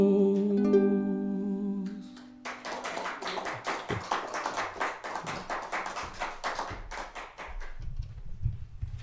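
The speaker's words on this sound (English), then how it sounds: "give Johnny another round of applause" A song ends on sustained tones, then a small audience claps for several seconds in a thin, close patter of individual hands, loosely rhythmic and moderately loud, fading toward the end.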